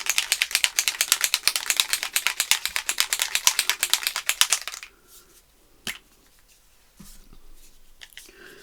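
A spray bottle of paint or similar craft medium is shaken hard for about five seconds, giving a fast, even rattle, then a few quieter handling knocks and taps follow.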